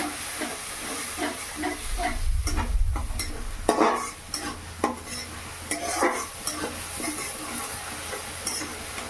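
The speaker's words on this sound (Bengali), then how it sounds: "এবারে ভালো করে নেড়ে চেড়ে মশলাটা বানিয়ে নেব।" Masala made with Kashmiri chili powder fries in a pan for vhetki fish kalia. A utensil stirs with repeated scrapes and clinks over a hissing sizzle, and a low rumble swells briefly partway through. No one speaks.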